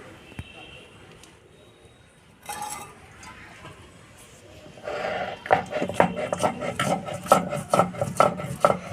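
Cardamom is ground on a grinding stone, with soft rubbing at first, then louder, rhythmic rasping strokes of stone on stone close by in the latter half.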